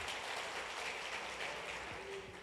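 A church congregation applauds, a continuous wash of many hands clapping at a moderate, even level for a couple of seconds.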